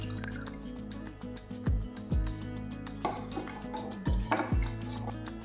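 Melted palm jaggery drips and pours into a pan, with repeated soft liquid drips and splashes at an irregular rhythm over a steady low hum, close and fairly quiet.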